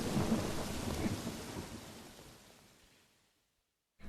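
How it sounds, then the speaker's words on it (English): A thunderstorm with heavy rain rumbles with a rolling thunderclap that slowly fades into near silence, then a brief burst of sound returns at the end, loud and close, with no voices. "The storm continued for 20 minutes."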